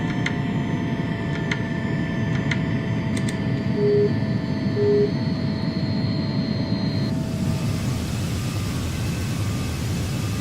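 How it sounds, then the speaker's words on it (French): An airliner takeoff in a flight simulator game, heard from the outside view: a loud steady engine roar with high whining tones that holds for about ten seconds, with no talking. "Voilà le décollage que nous venons de réaliser en vue extérieure."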